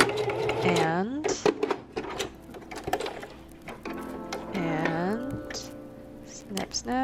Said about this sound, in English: second row of stitches, back stitch